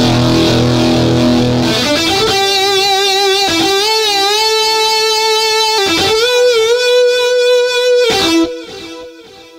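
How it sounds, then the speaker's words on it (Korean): Synthesizer distortion guitar patch, bank G number 31, plays sustained overdriven notes with pitch bends and vibrato, loud and alone for about eight seconds before fading. "이번에는 디스토션 기타 사운드를 들어보겠습니다"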